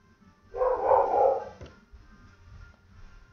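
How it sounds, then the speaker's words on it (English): A dog lets out one loud, close bark lasting about a second, followed by quiet. "my dog barks so loud"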